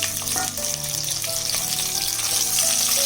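Goat legs fry in a pan with reddened onions as the base for a soup, giving a steady close sizzle with light stirring and occasional clinks, alone without talk.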